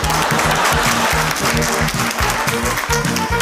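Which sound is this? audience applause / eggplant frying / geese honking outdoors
audience applause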